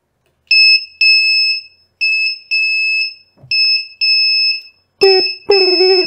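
An Arduino active electronic buzzer sounds loud, shrill beeps in short and longer bursts, then a voice briefly imitates the beeping.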